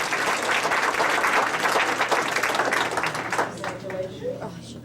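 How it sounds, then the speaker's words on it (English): Sustained applause from an audience at a board of education meeting honoring students, dense and steady clapping for several seconds before tapering off near the end. "So again, let's give them another applause."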